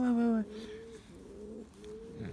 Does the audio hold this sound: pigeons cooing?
yes